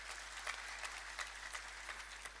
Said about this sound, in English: Give a clap, please. Give applause.